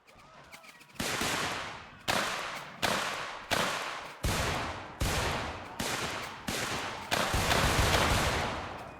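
Heavy rifle volleys from an American Civil War battle in Mount & Blade Warband, roughly nine loud crashing bursts at a steady pace about one second apart, each fading before the next, with no talking.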